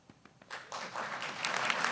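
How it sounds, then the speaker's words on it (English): An audience begins clapping between speaker introductions at a nonprofit event, a few scattered claps swelling quickly into fuller applause. "We can clap in between each one."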